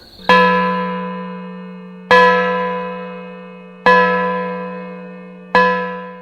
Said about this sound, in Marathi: एवढ्यात ती निरव शांतता भंग करणारा मोठा घंटेचा आवाज आला